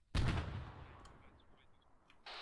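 A grenade goes off in the military video game Arma 3 with a single loud, booming blast that rolls out and fades over about two seconds. Faint distant crackles follow, then a brief noise burst at the end. No talk is heard.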